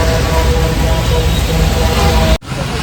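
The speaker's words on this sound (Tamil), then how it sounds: "திருப்பி மழை வந்துருச்சு" Steady rain pours down at an outdoor market, a dense continuous hiss that fills the scene before cutting off abruptly near the end.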